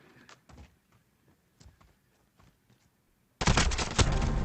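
Grenade launcher fire in a Call of Duty gunfight match: soft scattered pops and thuds, then a sudden loud, sustained burst of blast noise that fills the last second.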